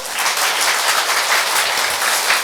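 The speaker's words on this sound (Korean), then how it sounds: "자, 박수 한번 쳐볼까요?" Audience at a church family-day lecture breaking into applause, a dense, steady wash of many hands clapping together, loud and close throughout with no voices on top.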